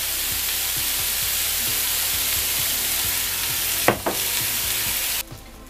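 Meat and vegetables sizzle on a closed electric grill, an even, continuous frying hiss with faint crackles, a brief clunk partway through, then the noise cuts to quiet.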